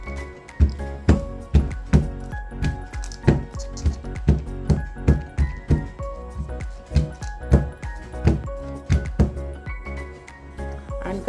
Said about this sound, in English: So I'm gonna tap to release any air bubbles.